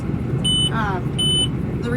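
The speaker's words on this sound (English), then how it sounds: "The reason why the tractor is beeping right now is it's the GPS that's beeping because I'm getting up to the fence line that I created for myself." A tractor's GPS guidance system beeps near a field fence line while spraying, two short electronic tones about three quarters of a second apart over a steady engine rumble.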